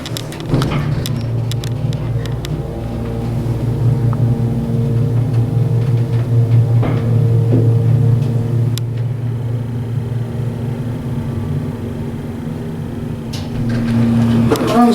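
An elevator motor at Town Center at Cobb mall in Kennesaw, Georgia runs with a steady low hum and drone throughout. Faint clicks and mechanical rattles sit on top of it, and no one talks over it.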